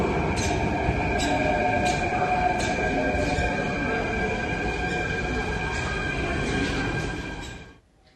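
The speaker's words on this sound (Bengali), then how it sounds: "মেট্রো চলে এসেছে মেট্রোর ভেতরে আমরা প্রবেশ করব" A Delhi metro train rumbles into the station with a loud steady roar and high wheel squeal, with faint voices underneath, then drops away quickly at the end.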